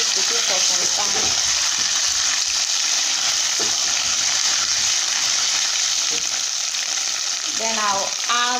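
Tomatoes fry in a pot for peppered kpomo, a loud, continuous dense sizzle with occasional stirring scrapes and a brief voice sounding near the end.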